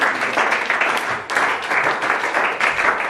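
A church congregation claps and applauds for Jesus during a worship service, a dense, loud, continuous wash of many hands that swells and dips over a few seconds.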